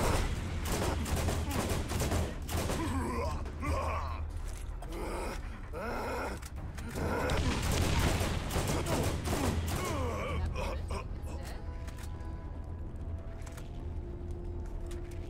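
An incendiary Thumper gun in Borderlands GOTY Enhanced fires in loud, close, rapid bursts, mixed with pained groans and grunts, before the shooting thins into quieter, ringing tails.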